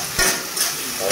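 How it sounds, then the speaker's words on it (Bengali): Onions hiss and sizzle in hot oil with bay leaves in a home kitchen pan, a steady close frying noise with a brief stir-like burst near the start and end. "আর দেওয়া হচ্ছে পেঁয়াজ। খুব সুন্দরভাবে দেখতে পাচ্ছেন ভেজে নেওয়া হচ্ছে"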